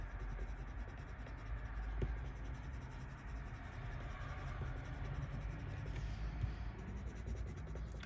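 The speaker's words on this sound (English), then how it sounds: "It's making quite a noise on this paper, these pencils." Coloured pencils, including a scarlet one, scratch steadily across paper in a continuous, dense rasping hiss that stays close and fairly even throughout, with no talking.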